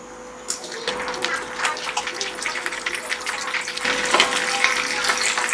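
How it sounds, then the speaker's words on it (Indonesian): Skewered marinated intestine satay sizzles steadily in hot oil, a dense crackling hiss that grows louder partway through, with no talk over it. "Sekarang satenya kita goreng."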